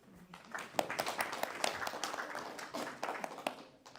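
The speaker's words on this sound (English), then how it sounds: "give Jay a round of applause" A small audience at a spiritual talk gives a quiet, sparse round of applause, with individual hand claps picked out distinctly at a distance and fading unevenly.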